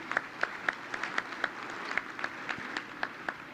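An audience at the White House Correspondents' Association Dinner applauds in a rather distant hall, a steady patter of many hands with sharper individual claps standing out at a regular rhythm.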